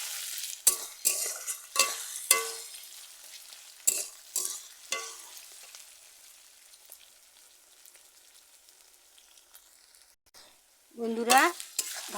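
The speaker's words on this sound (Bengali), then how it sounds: "ভালো করে ভেজে নেব আদা রসুন পেঁয়াজ" Sizzling frying of ginger, garlic and onion in a pan, with sharp scraping stirs at the start that trail off into a quieter, steady fry, then a brief burst of stirring near the end.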